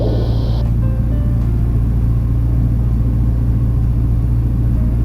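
Steady, loud drone of a small training airplane's piston engine heard from inside the cockpit during instrument flight training, a constant low hum without pause, brief higher tone fading at the start.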